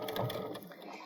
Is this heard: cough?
no